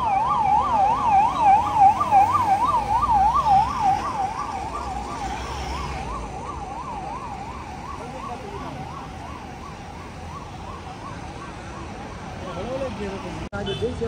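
Wailing ambulance and emergency vehicle sirens in a passing motorcade convoy on a road in Rajasthan, loud and warbling at first and then fading away, with a vehicle hum and murmuring voices underneath.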